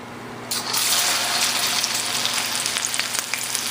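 Okra dropped into hot oil bursts into a loud sizzle after a short quiet start, then settles into a steady crackling fry with small pops.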